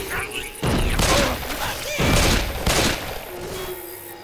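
Gunfire in Left 4 Dead 2, several heavy shots and crashing impacts in quick bursts near the listener, mixed with game noise and thuds.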